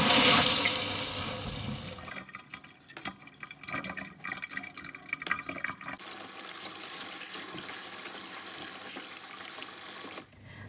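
Black beans are rinsed under running water in a bowl, a steady close splashing and trickling stream that begins with a loud gush and continues evenly.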